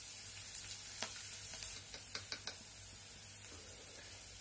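Chopped garlic and green chillies sizzling in a pan for jeera aloo, a quiet steady fizz of hot oil broken by a few sharp spoon taps and scrapes near the middle.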